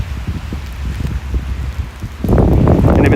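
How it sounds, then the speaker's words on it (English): Wind buffets a phone microphone outdoors in a snowy park, rough low rumbling gusts that swell and fade and then turn into a louder, steady roar over the last second. "sorry about the wind noise."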